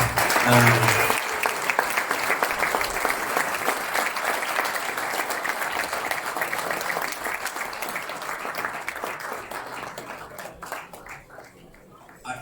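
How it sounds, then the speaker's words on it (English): A round of applause for the players at a sports club's 50th anniversary presentation in a bar and grill, with clapping that starts strong over a brief voice, then gradually thins and fades away. "they definitely deserve a massive round of applause as to obviously the players."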